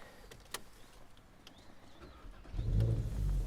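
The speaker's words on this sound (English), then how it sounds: "Now we'll start the vehicle up, foot on the brake," A Volkswagen Golf R TSI with a DSG gearbox starts up close by. A few faint clicks from the cabin come first, then the engine turns over and settles into a deep, steady idle rumble for the last second.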